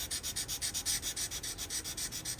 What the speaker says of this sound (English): So going over with some 400 grit and we're going to take off as much of this rust as we can.